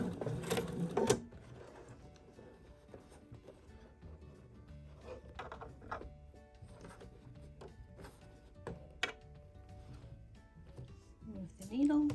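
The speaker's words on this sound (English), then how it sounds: "I'm going to do needle stop down so that I can pivot and move it as I'm sewing." Domestic sewing machine stitching fabric for a stuffed toy, running in short bursts with light mechanical clatter and needle taps, quiet and close, with a brief louder handling noise at the start and end.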